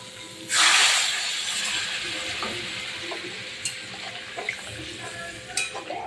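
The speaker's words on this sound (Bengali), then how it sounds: "আলু মাছ একসঙ্গে মশলার সঙ্গে একটু নেড়ে চেড়ে নেব।" Fish head and potatoes being stirred with spices in a hot oiled pan give a loud burst of sizzling hiss that settles into steady frying with light scraping and occasional spoon taps, no talking.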